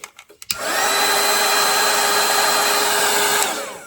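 After a few quick clicks, a hair dryer switches on and blows steadily at close range to dry a wet watercolor floral painting, a loud continuous whine with a slight drop at the end, no talk.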